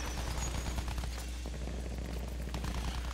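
Continuous loud machine gun fire from an aircraft in Battlefield 1, a dense unbroken rattle over a steady low engine drone, with the gun overheating during the sustained burst.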